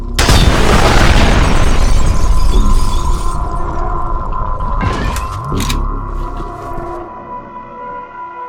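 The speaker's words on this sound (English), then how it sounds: "I gotta love the explosions in slow motion." Heavy booming slow-motion explosions in the video game F.E.A.R., with shattering debris, loud and drawn out, followed by lingering rumble and a few sharp high bursts as the blasts fade.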